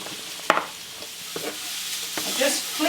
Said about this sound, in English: Just flipping over the onions and the mushrooms in the pan, getting that ready.